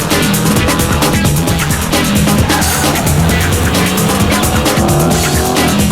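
A loud Porsche 996 911 engine roars steadily at high revs, a dense continuous mechanical howl with no voices.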